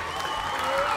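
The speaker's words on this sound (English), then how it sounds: "Special thanks and a big round of applause for Jess." Steady applause from a crowd, continuous and fairly loud throughout, with a few voices mixed in.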